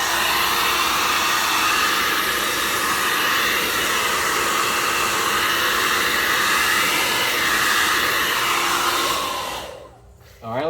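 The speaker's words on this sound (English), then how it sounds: "or you can use a hair dryer" A hair dryer blows dust out of a ceramic space heater, a loud steady close-up whoosh that runs without a break before cutting off near the end.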